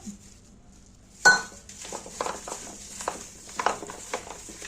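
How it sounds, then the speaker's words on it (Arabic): Cut potato pieces get tossed with a spice mixture in a metal baking tray: after a sharp opening clank, soft scraping, patter and light clinks follow in an uneven rhythm, close and alone. "هنقلبهم بقى مع الخلطه"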